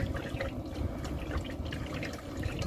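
Warm engine oil drains from a Fiat Ducato camper van into a container, making a steady, continuous trickling pour without a break.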